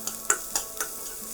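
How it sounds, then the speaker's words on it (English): Chopped onions and ginger sweat quietly in a pan, giving a soft, steady sizzle broken by a few light clicks from stirring. "we're only looking to sweat the onions and the ginger together"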